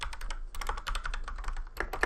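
Rapid, uneven typing on a computer keyboard, with dense clattering keystrokes close up and no speech, during a live trading Q&A session.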